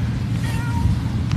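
A cat meows a few times, soft and fairly close, over a steady low hum in an indoor room.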